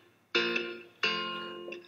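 Two electric guitar chords, each ringing out with a long reverberant tail from a Hall reverb plugin that hangs in the air, followed by a softer third note.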